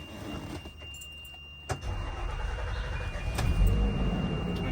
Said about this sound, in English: Turn on the bus. Let it build pressure to at least 100 before I can move the bus. Idle.